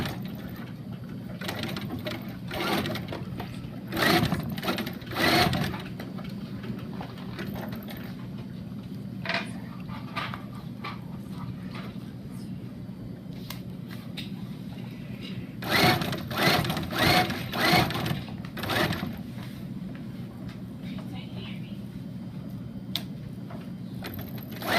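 A sewing machine stitches fabric in bursts, its needle chattering rapidly through the cloth with pauses between runs while gathering and easing a seam; close and fairly quiet, with no voices.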